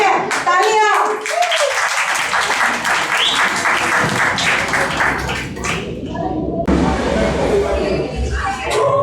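An audience claps at a community program event, loud, close applause mixed with children's and adults' voices chattering throughout, with a brief swell of clapping near the end.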